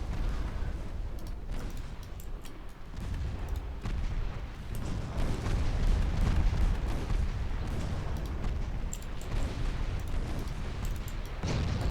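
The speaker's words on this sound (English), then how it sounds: "Oh, one of the battle cruisers is exploding." A battle cruiser, the Kronprinz, explodes in a naval dreadnought-era video game, a deep rumbling roar with crackling bursts and scattered booms rolling on throughout.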